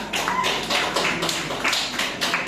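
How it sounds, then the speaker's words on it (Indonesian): Applause from a classroom audience at a microteaching session, a dense, steady patter of many hands clapping together for about two and a half seconds, with no talk over it. "beri aplaus untuk Azam ya."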